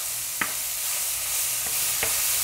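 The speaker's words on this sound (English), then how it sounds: "Now I'm going to go ahead and add the mushrooms" Mushrooms and onions frying in butter or oil in a pan, a continuous loud sizzle with a few brief scrapes of a utensil stirring.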